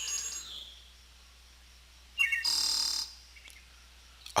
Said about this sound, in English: maybe a bird tweeting